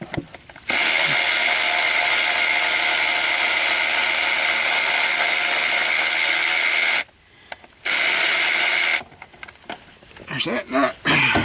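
A ratchet wrench turns a nut during a wheel bearing job on a 2001 Bonneville, making a loud, rapid, continuous ratcheting whir that stops twice and then breaks into shorter bursts, with someone speaking around it.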